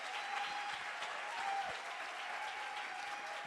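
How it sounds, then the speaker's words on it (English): An audience at a celebration event applauds speakers, with dense, steady clapping that holds at an even level for the whole stretch, accompanied by a faint, sustained tonal hum. "let's give our speakers, Sonia, a big round of applause"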